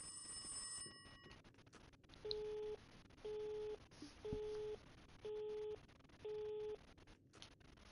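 Dead phone line tone in the horror game Rise of Insanity: five evenly spaced, faint electronic beeps, each about half a second long, repeating once per second after a brief chime at the start.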